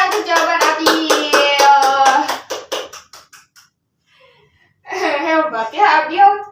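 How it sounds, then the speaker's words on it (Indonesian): A classroom of children applauds together during a sixth-grade lesson on the solar system, a loud burst of dense, rapid hand clapping that fades out, then a second shorter round of clapping. "kita beri tepuk tangan"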